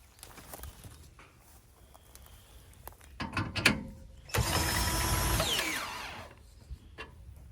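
A cordless drill cranks the stabilizing jacks on a cargo camper, with a few short ratcheting bursts followed by one sustained, loud whirring run of about two seconds nearby.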